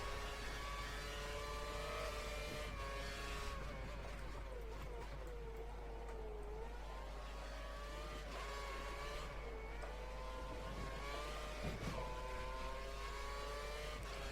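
An F1 race car laps on a heavy fuel run in the F1 2013 video game during Australia practice, its high-pitched engine whining steadily and shifting pitch through corners, set low beneath faint background commentary.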